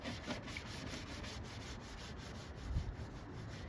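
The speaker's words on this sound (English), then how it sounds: "Some 320 sandpaper. I'm just going to go ahead and just hand sand this down." Steady, close hand sanding with 320 grit sandpaper on the door jambs of a wrecked 2011 Chevy Malibu, a continuous rhythmic scratchy rubbing with regular back-and-forth strokes and no talking.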